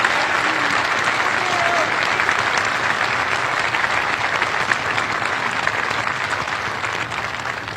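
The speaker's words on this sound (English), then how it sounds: "Give him a round of applause" A large crowd at a Coast Guard Academy commencement applauds continuously for a promoted Vice Commandant, dense sustained clapping that fills the space at an even level throughout.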